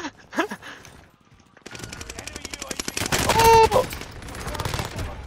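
Automatic and single gunfire bursts in the Warzone Resurgence video game, loud rapid fusillades building after a quieter opening with brief speech, near and dense toward the end.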